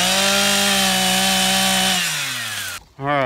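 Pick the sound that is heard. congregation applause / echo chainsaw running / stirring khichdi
echo chainsaw running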